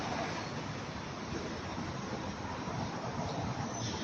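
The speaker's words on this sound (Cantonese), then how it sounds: "依家起風啦，吹散啲熱氣咯" Steady wind gusting outdoors on a warm night in Foshan, a continuous broadband rush with no breaks and no voices over it.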